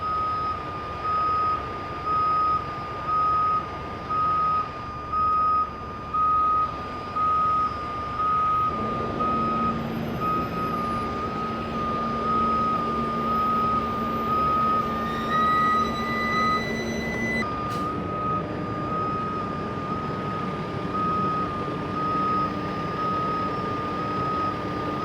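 A truck's reversing alarm beeps in a steady, evenly spaced series, loud and clear over a low idling engine, as the axles of an overheated semi's trailer are moved back, then falls quiet as the engine keeps rumbling.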